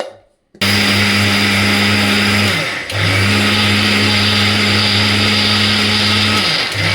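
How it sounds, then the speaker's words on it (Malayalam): An electric mixer grinder whirs loudly and steadily as it grinds rice, briefly dipping in pitch once midway before resuming its constant drone, with no voices. "അപ്പോൾ ഈ അരി ആദ്യം അരക്കട്ടെ കേട്ടോ"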